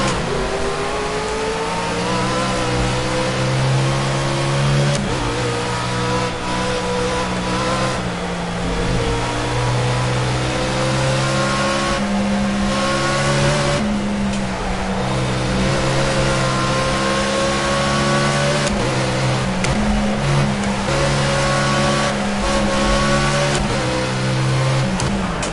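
Race car engine in Project CARS, droning loudly and continuously through the whole stretch, with rising and falling revs as it accelerates and shifts gears, alone without talk.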